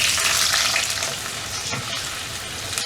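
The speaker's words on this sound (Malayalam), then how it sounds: "ഇതിലേക്ക് ഞാൻ ഈ ഒനിയൻ പെറ്റൽസ് ഈ റെക്റ്റാങ്കിൾ ഷേപ്പിൽ കട്ട് ചെയ്ത് വെച്ചത് ഇടുന്നു" Rectangular-cut onion petals fry in hot oil for kadai paneer, a loud, close, hissing sizzle that stays dense and steady, with a few stirring scrapes and no voices.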